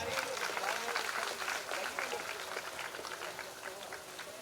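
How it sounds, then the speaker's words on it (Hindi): Audience clapping at a Shiv Mahapuran religious gathering, a steady broadband patter of many hands lasting throughout at moderate level, with a voice talking over it. "तालियां बजाएं।"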